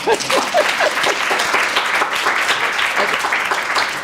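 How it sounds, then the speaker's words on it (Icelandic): Audience applause at a nursing and midwifery faculty symposium, steady dense clapping filling the room for about four seconds, with a few brief voice fragments at the start. "Svona klappa hérna fyrir Mörgu Tóme, bara svona."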